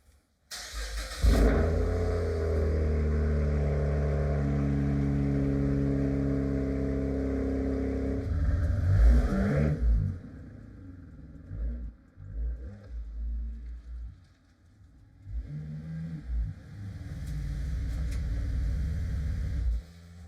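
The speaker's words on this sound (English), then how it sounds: "I'm gonna do the cold start for you guys and then move the car into the garage" A car's engine fires up on a cold start with a sharp burst, then settles into a steady loud idle before revving and rumbling as it creeps forward into a garage, followed by quieter shuffling and closing sounds.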